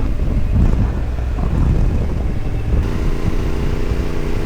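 A motorcycle on a commute through twisty roads and lane splitting, with heavy wind buffeting the microphone nonstop. A low engine rumble runs underneath the whole time, loud and close, with no talking.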